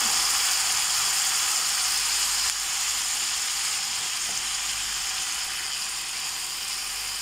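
Bitter gourd sizzles steadily as it fries in a pan with egg, a loud continuous hiss and crackle of oil throughout with no talking.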